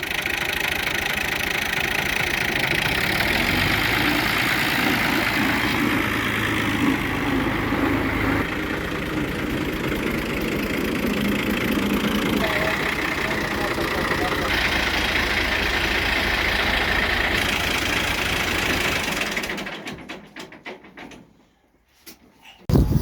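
A tractor engine idles steadily on a farm during wheat-sowing preparation, a continuous mid-pitched rumble with some knocking texture and background voices, fading out near the end.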